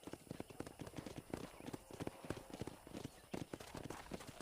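A horse's hooves clop in a quick, rhythmic gallop across open ground in Red Dead Redemption, moderately close and steady throughout, with no voices over them.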